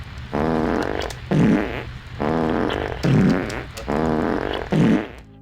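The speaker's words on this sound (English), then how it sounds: "Crash will make fart noises using his armpit" Crash Bandicoot makes armpit fart noises in the Wii version of the game: six buzzy, squelching bursts in a regular rhythm, alternating slightly in pitch, loud and clean with no talking.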